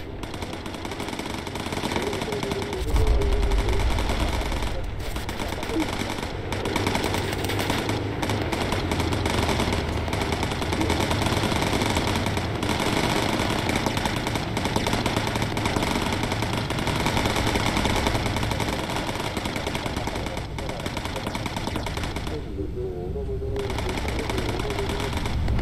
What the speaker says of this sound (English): Good shooting, gunners.